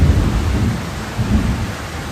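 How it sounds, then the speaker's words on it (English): Heavy rain downpour pouring steadily with deep rumbling thunder rolling underneath, loud and close, with no voices. "This is probably the biggest downpour I've even seen since I've been here."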